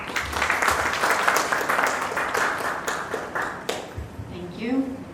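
Audience applause at a business plan competition boot camp in Chandigarh welcoming a guest speaker, a steady clatter of clapping that thins out near the end as a voice begins speaking.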